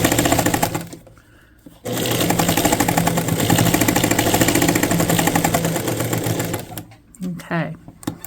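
A sewing machine stitching a strip for a diagonal-pattern baby quilt top runs loud and close in a continuous whirring burst, pausing briefly near the start and again near the end.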